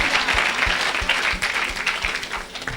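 A congregation applauds during an evangelistic church service, a full, continuous round of clapping from many hands in a room, steady and fairly close.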